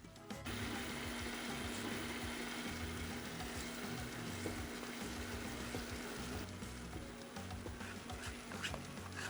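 Chopped vegetables and green seasoning frying in shrimp-seasoned oil on a stovetop, a steady, continuous sizzle and hiss with a low hum running underneath, fairly even throughout with no talking.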